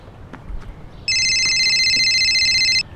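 A mobile phone rings with a bright electronic tone, one continuous chirping burst of nearly two seconds after a moment of quiet room sound, close and loud with no talk over it.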